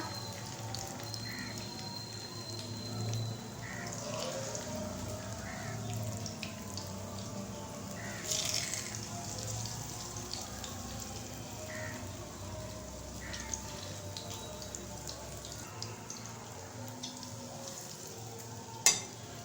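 Spiced Lahori-style fish shallow-frying in a pan over a low flame, giving a soft, continuous sizzle with faint crackles and an occasional small clink, close by and without speech.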